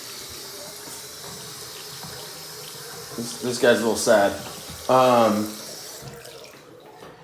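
A bathroom sink tap runs at low pressure, a steady gentle trickle of water heard close, with a person speaking briefly over it midway.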